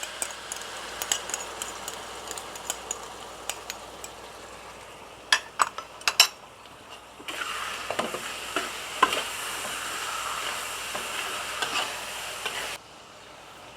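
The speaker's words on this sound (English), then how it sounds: "Stir fry for a while." Chicken stir-fried with oyster sauce and black soy sauce in a pan for kam heong pineapple chicken: a steady close sizzle runs throughout, with sharp clacks of the utensil against the pan and a louder, denser frying burst in the second half.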